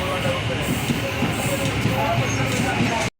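Inside a passenger train slowing down as it nears Tiruvannamalai, a steady, close rumble of wheels and carriage runs continuously before cutting off abruptly at the end.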